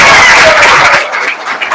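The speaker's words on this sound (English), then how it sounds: "One more big applause for our wonderful candidates." A debate audience applauds the candidates with loud, dense clapping that tapers off after about a second, leaving fainter scattered claps and room noise.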